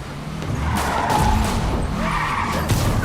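A car skids and crashes in the video game Marvel's Spider-Man. A loud, continuous rumble of tires and engine rises and then falls away.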